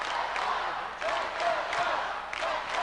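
A high school hockey championship crowd in an arena swells with cheering and shouts, a loud, diffuse roar rising in waves with scattered claps.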